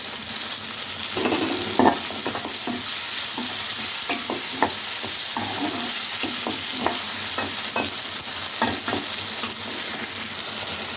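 Ivy gourd (kovakkai) and tomato sautéing in a pan, a steady close sizzle broken by repeated scraping strokes of the spoon, with no voices.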